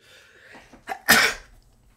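A single sneeze, a short breathy intake followed by one sharp, loud burst close to the microphone, then quiet.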